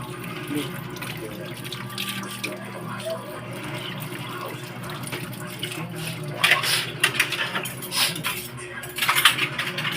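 A water tap runs steadily while dishes and cutlery clink now and then, with louder splashing and clatter toward the end and voices talking in the background.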